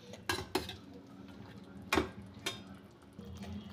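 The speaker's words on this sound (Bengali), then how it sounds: "আমি একটু ঢাকা দিয়ে দিচ্ছি" A lid is placed on a cooking pan of chili chicken and vegetables on low heat: a few sharp, close metallic clinks and taps spread over a few seconds, with quiet hiss between them.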